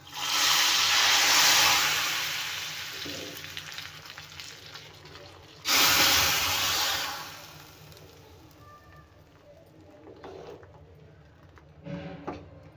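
Hot oil sizzles loudly as a tadka tempering is poured over dal, two strong bursts of frying hiss that fade away, with faint stirring and clinks afterward.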